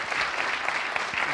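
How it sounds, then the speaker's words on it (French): An audience claps steadily at the Trophée Pro Groupama 2024 award ceremony, a continuous, fairly loud wash of many hands with no voices over it. "vous pouvez l'applaudir"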